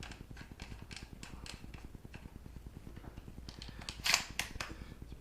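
Shells being fed into a Mossberg 835 pump shotgun produce quiet close mechanical clicks and ticks in a quick run, with one louder metallic snap near the end.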